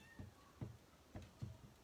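A cat meows softly several times in a row, short low calls spaced about a quarter to half second apart, close by in a quiet room.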